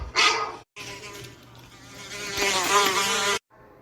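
Flies buzzing with a steady droning whine, near and moderately loud, cut into short sections separated by brief silences, with a faint dog sound in the background.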